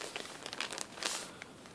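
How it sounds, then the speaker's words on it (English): A plastic bag stuffed with cotton balls crinkles and rustles up close in soft, continuous bursts with brief crisp peaks, quiet overall and with no talking. "this plastic bag that is filled with cotton balls"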